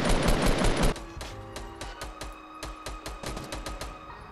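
Rapid automatic gunfire in a Fortnite Battle Royale match, a dense loud burst followed by a steady string of sharp, evenly spaced shots with no talking.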